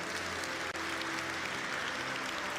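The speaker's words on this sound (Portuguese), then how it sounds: "Uma salva de palmas para Jesus." A church congregation applauding, a steady, dense wash of many hands clapping at once that holds evenly throughout, fairly soft and somewhat distant, with no voice over it.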